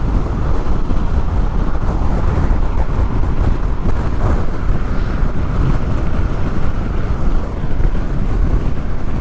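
Loud, constant roaring wind buffeting while riding a Honda NC750XA motorcycle on a motorway, a dense rushing noise that never lets up.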